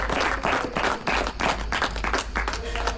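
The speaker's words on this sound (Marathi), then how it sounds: "यासाठी एकदा ज्योती आणि आपले दाजी यांच्यासाठी एकदा टाळ्या लोक झाल्या" Audience at a classmates' reunion gathering applauds, a dense burst of clapping from several people close by, continuing steadily for a few seconds.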